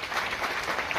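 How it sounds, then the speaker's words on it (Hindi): Enthusiastic audience clapping at a Hindi motivational gathering, a brief burst of dense, loud applause filling the whole moment. "जोरदार तालियां।"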